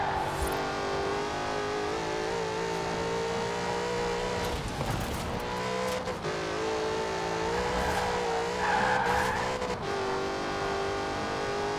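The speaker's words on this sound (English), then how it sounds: "I just already hear the tire screeching" A 2015 Jaguar F-Type R Coupe in Forza Horizon 4 holds a steady, loud engine drone through a corner, with rising whines and brief squealing tyres as the car slides near its limit.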